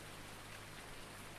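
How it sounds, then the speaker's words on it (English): Rain falls steadily outdoors at dawn, a faint, constant hiss of drops on surfaces with no gaps and no voices. "It's raining."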